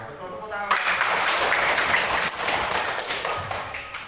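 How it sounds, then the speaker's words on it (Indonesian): Students in a classroom break into a burst of clapping that fills most of the moment, a dense patter of hands close by, with a voice audible at the start before the claps take over. "Iya, betul, tepuk tangan."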